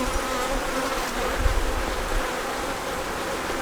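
Honey bees buzz steadily at an open hive with the frames exposed, a dense close-up hum of many insects that holds level throughout, with no voices.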